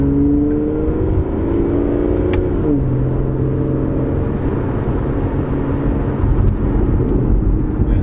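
An Aston Martin Vanquish cruises along, its engine a steady low hum with a note that shifts downward early on, then settles into a continuous, fairly loud drone with road noise.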